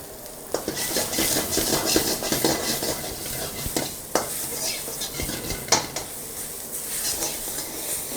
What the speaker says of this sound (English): you have to make sure you keep stirring it